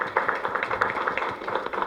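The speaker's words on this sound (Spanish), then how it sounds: "Un aplauso por favor a nuestra entrevistada." Applause for an interviewee in a legislative committee session, a brief burst of scattered hand claps from a small group in a room, moderately loud, no talk.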